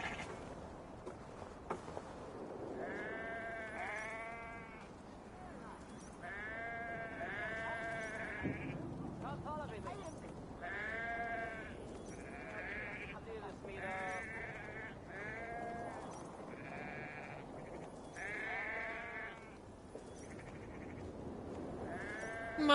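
Sheep in the video game Assassin's Creed Valhalla bleat repeatedly, wavering nasal calls coming in irregular bursts over a quiet outdoor backdrop, with a sharp clack at the very end.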